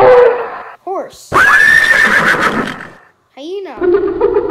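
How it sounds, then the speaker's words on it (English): A horse neighs in loud, close whinnies with rising and falling pitch, repeated in bursts from an animal-sounds game; a voice is heard around the calls. "Horse."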